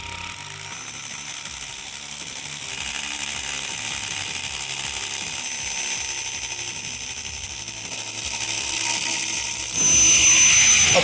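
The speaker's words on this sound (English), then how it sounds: "We're using a hollow drill bit." Power drill boring a pilot hole with a hollow stop drill bit, a loud continuous whirring grind with slight pitch wobble that rises in intensity near the end, with no talking.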